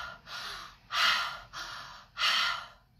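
A person demonstrates shallow, panicked breathing driven by the neck and upper chest muscles: four quick, strained breaths, alternating sharp inhales and exhales, each about half a second, close and fairly loud with no talking.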